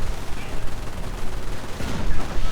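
Machine guns and rapid small-arms fire crackle in a WWII strategy video game battle, with dense overlapping bursts and booms in a continuous loud barrage throughout.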